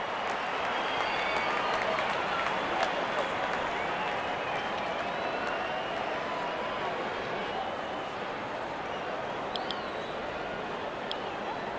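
Cricket crowd at an India versus England T20 match applauding a batsman's well-timed shot, a dense, steady wash of clapping and crowd noise that holds throughout with a faint voice underneath.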